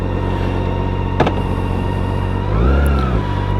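A BMW K1600GT motorcycle running while heading out for an evening ride, a loud steady engine drone with a brief click and a swelling revving surge near the end, heard close.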